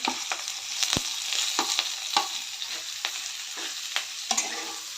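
Ground soaked dal frying with garlic, green chilli, curry leaves and asafoetida in a pan, a steady close sizzle broken by repeated spoon scrapes and stirring clicks, with no talking.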